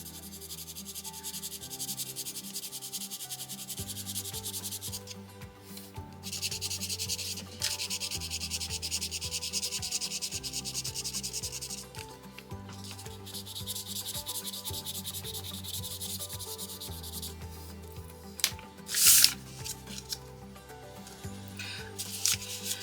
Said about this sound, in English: Sharpen my pencil here.